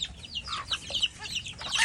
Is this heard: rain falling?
no